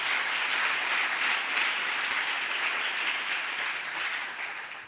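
A church congregation at a Pentecost service applauds the Lord, a steady wash of clapping from many hands that holds evenly throughout, filling the room with no voices standing out.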